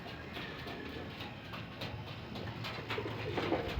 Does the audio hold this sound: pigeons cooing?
yes